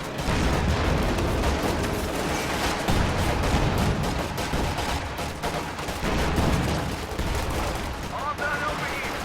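Dense gunfire from a WWII strategy game, with infantry support guns, anti-tank guns and a Panzer IV in combat, crackles in rapid bursts and volleys, loud and continuous, with a voice talking over the battle.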